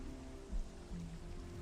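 Steady rain in Minecraft Skyblock, a soft, faint patter of drops on surfaces with a low hiss throughout, no voices present.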